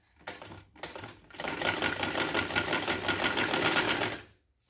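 A sewing machine stitches a neckline onto a suit in quick, rapid bursts, starting with a few short runs and then one long, loud, steady stretch of fast needle clatter before stopping abruptly.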